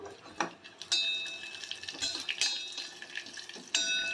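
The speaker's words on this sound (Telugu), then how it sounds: "జీలకర్ర, ఆవాలు, ఎండుమిర్చి ఇవన్నీ వేసుకొని 1 minute ఫ్రై చేసుకొని స్టవ్ ఆఫ్ చేసుకోవాలి" Cumin, mustard seeds and dried red chillies crackle and pop in hot oil for a tadka, with sharp scattered bursts, bright sizzling, and a few clicks of a utensil against the pan, heard up close.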